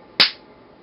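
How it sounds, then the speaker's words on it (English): One sharp hand clap from about two meters away in a quiet room, a single crisp crack that fades quickly into silence. "So I'm just going to clap."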